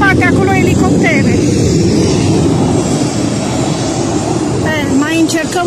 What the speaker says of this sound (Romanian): Se aude de peste tot un vuiet, dar avionul nu-l vezi.